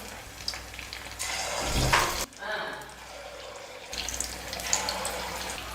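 Filling dipped in idli batter drops into hot oil in a kadai, producing bursts of bubbling, hissing frying noise that rise and fall, with a voice talking over it at times.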